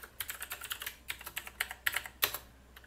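A password tapped out on a computer keyboard while setting up Kali Linux, a close, quick run of light key clicks in irregular bursts with brief pauses.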